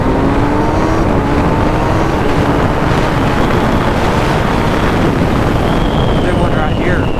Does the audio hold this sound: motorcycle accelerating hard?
yes